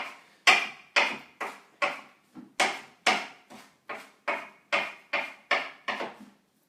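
Knife chopping basil on a cutting board, about a dozen crisp, close thuds spaced fairly evenly with brief pauses, loud and alone without any talk.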